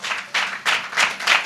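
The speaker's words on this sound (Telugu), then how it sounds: "Just give big claps to Jesus." Bursts of applause for Jesus during a church service, five short rounds of clapping rising and fading in quick succession, fairly close and with no talking over them.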